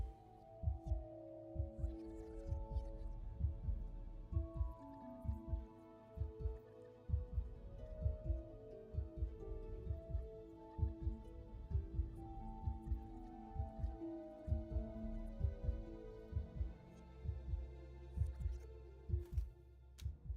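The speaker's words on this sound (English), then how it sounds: "I don't like the heartbeat noise." Heartbeat sound effect in the video game Immortality, a steady run of deep, muffled double thumps repeating at a regular pace under a low humming musical drone, quiet throughout.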